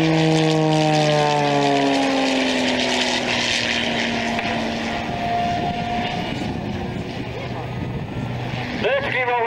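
A 300 horsepower aerobatic propeller aircraft roars loudly at an air show, its engine pitch sliding downward as it climbs and rolls, and a commentator talks over the sound.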